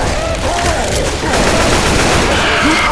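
Dense, continuous gunfire in the video game Left 4 Dead 2 crackles in rapid bursts, loud and chaotic with a few distant booms mixed in.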